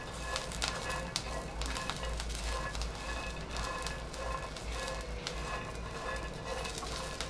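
Peanuts and green chillies roast in a pan on the stove for Maharashtrian thecha, a soft, steady crackle and sizzle with scattered pops throughout, fairly quiet.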